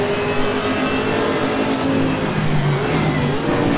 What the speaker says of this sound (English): Cars sound awesome as well.